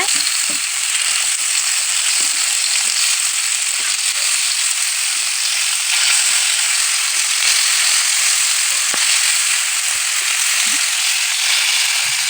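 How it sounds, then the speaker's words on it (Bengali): Pangas fish frying in oil in a pan and being turned over, giving a steady, loud, hissing sizzle that carries on unbroken with only faint knocks underneath. "মাছগুলো এখন আমি উল্টিয়ে দিব এক সাইড হয়ে গেছে"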